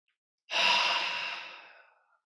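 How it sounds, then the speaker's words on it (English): One slow, deep breath of about a second and a half during a guided open-awareness meditation, close and breathy, swelling quickly and then trailing off into silence. "slowly, slowly breathing in again"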